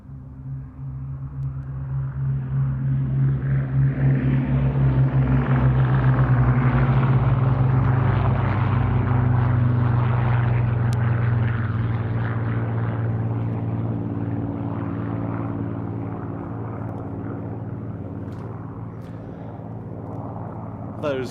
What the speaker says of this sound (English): Rolling the Bristol Blenheim 1F and 2 Supermarine Spitfire 1As.